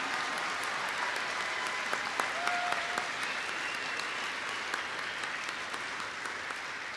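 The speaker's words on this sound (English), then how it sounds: "Yes, they deserve a round of applause." Graduates at a spring university commencement receive sustained applause from the crowd, dense clapping with a few sharp individual claps standing out.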